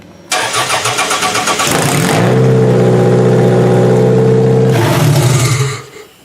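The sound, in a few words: Toyota Solara derby car engine starting and revving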